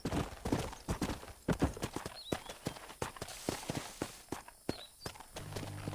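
Horse hooves clip-clop in a steady walking rhythm in the video game Red Dead Redemption, with a faint whinny and soft game ambience underneath.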